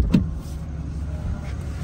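Power running boards deploying on a 2024 Ram 2500 pickup, a low, steady electric motor whir close by after a brief thump at the start, lasting under two seconds with no talking.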